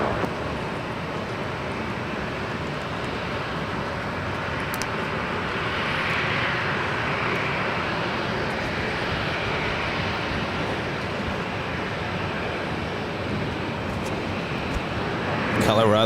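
Airliner landing at Los Angeles International Airport, a loud, steady roar of jet engines and rushing air that swells slightly midway, with tower radio talk underneath.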